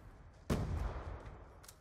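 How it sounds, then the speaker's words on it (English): Gunfire and explosions sound in the shooter video game Call of Duty: Black Ops 2. One sharp, loud blast hits and decays into a rumbling tail, with fainter pops after it and no speech. "I can hear constant explosions."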